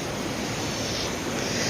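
Water flows in a shallow stream beside a Shiva temple in Krishnagiri, a steady, close, broadband rushing wash with no voices over it.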